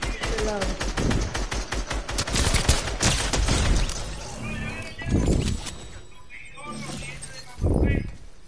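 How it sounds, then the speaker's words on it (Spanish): Rapid gunfire bursts from the Fortnite video game, dense automatic shots rattling over the first few seconds then fading, with a player speaking in short bursts between the shots. "Pero me están disparando y no veo de dónde."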